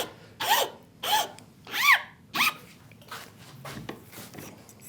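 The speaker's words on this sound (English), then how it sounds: "Go with the file and trim it out with the file" Metal file rasping a corner of a wooden router plane kit in four distinct strokes, followed by softer scraping.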